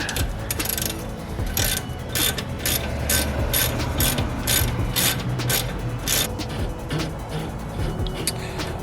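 A ratchet with a 14mm socket works a Mazdaspeed 3 axle nut, giving repeated bursts of close metallic clicking in an uneven back-and-forth rhythm.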